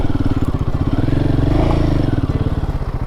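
Royal Enfield Himalayan 450 motorcycle engine running steadily up close with a rhythmic low thump while turning around on a misty hill road in Kerala, loud and continuous with some clatter.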